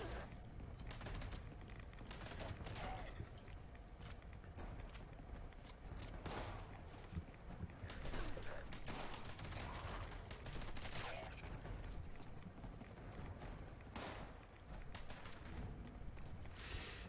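Rapid automatic gunfire from a 20-round magazine dump in the post-apocalyptic game Fallout 76, a dense burst of shots running almost continuously with brief gaps, moderately loud, with a voice talking over it.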